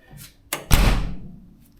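Door on an Australian Mini Clubman GT closing after alignment work, a short click near the half-second followed by a solid, close thud that rings down over about a second in a quiet garage.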